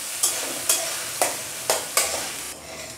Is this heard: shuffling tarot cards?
no